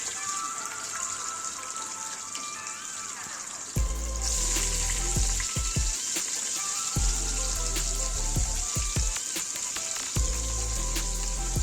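Five large onions, sliced lengthwise, drop into hot oil for chicken biryani and burst into loud sizzling partway through, with a steady frying hiss and brief clatters of stirring.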